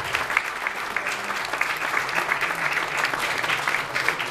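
An audience at a carnival press conference in Tempio applauds the town's majorettes, a steady, even patter of many hands clapping at moderate distance with no talk over it.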